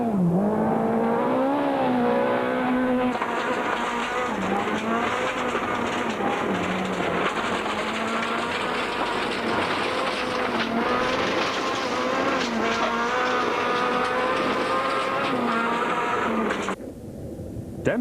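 A rally car's engine, recorded on board during a stage of the 2003 Sasol Rally, howls loud and steady throughout, its pitch rising and falling with gear changes. The sound drops off briefly near the end.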